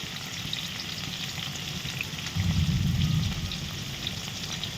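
Garlic and ginger paste frying in hot oil, a dense steady sizzle that swells briefly louder midway, close and continuous.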